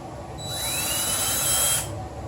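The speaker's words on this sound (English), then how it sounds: "One thing I hate about drilling holes is when that wants to walk off in another direction." A small power drill drilling holes in wood whines up to a high pitch, holds for about a second, then spins down, close and fairly loud.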